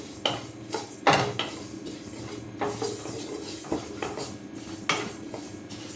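A utensil stirs sesame seeds dry-roasting in a pan, giving repeated scraping and clinking knocks against the metal in an irregular rhythm, close and fairly loud, with no talking.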